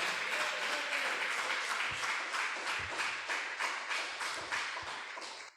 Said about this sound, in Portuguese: Vamos aplaudir bem forte ao nosso Deus.